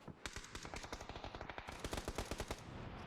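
Rapid bursts of automatic gunfire from a PUBG esports match, a dense run of sharp cracks across the whole stretch, loud and close with a steady hiss of game ambience beneath.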